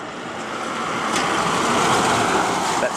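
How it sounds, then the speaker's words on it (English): Morning peak-hour road traffic heard from a distance near a creek and yacht club, a continuous even roar of passing vehicles that holds steady for a few seconds with no distinct individual cars. "That's the peak hour traffic for the morning."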